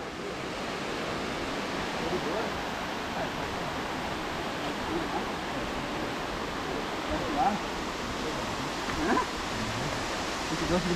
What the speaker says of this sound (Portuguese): Sente o som da cachoeira.